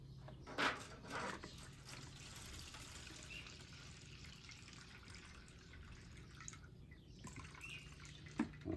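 Water mixed with fuel is dumped from the tank of a Murray lawn mower with a Briggs and Stratton engine, a faint steady trickle with a few louder drips and splashes.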